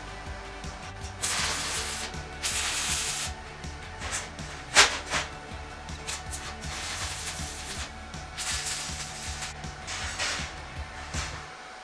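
A Titanium Unlimited 200 stick welder tacks a steel T-joint with a 6011 rod, giving several separate bursts of crackling, sizzling hiss that start and stop between quieter gaps.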